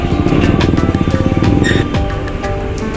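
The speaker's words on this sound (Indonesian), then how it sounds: "Selanjutnya diikuti unit bus Adi Prima" An Adi Prima bus drives aboard the KMP Legundi ferry with a loud, close engine rumble that pulses rhythmically, joined by a few sharp metallic clanks.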